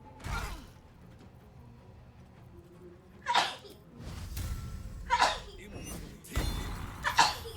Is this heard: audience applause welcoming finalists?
no